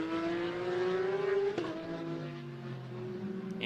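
A race car at an Estoril winter series event accelerates on the final lap, its engine note climbing in pitch and then dropping sharply as it upshifts. The whine continues steadily afterward, moderately loud and without talking.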